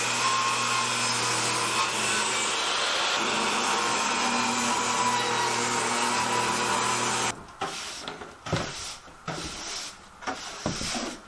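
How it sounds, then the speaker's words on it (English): A saw rips wooden boards for wall framing in a home renovation, a steady loud whine for about seven seconds before it stops, followed by a few brief scraping and knocking handling sounds. "just ripping a bunch of wood and framing everything in"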